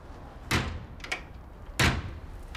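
A door is opened twice, each a short sharp thump with a brief rattle, close by in a quiet room during a German TV drama scene, with no speech over the sounds.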